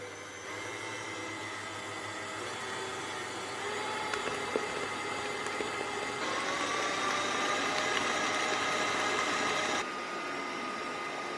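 A Kenwood kMix stand mixer with a K beater whips icing sugar, its motor giving off a continuous, high-pitched whine that steps up in pitch partway through, then drops back just before the end.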